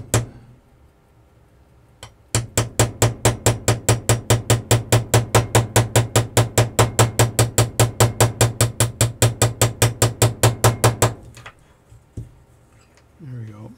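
Dozens of small, quick metallic taps from a hammer removing dents from a pocket watch case, in a steady, even rhythm, close up, stopping after about nine seconds.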